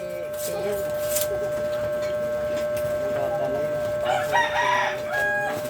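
Chickens, including a mother hen with chicks, cluck and murmur amid steady background hum, with people talking nearby and a brief livelier burst of bird calls toward the end.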